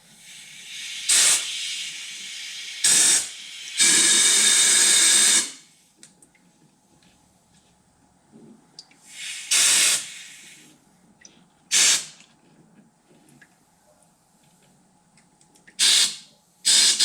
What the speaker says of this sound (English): we're going to push some air through the top hose and see what comes out of this hose